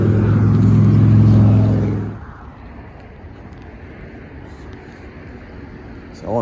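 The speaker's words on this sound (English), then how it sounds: "My bus is coming." A city bus pulls up close by on the street, its loud engine rumble and roar dominating for about two seconds before dropping away to quieter street ambience, with a brief swell at the end.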